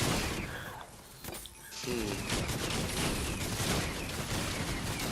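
Rapid shotgun fire from defenders wielding the new Primal shotgun in Fortnite Save the World: clustered blasts after a brief lull, then sustained loud overlapping shots to the end.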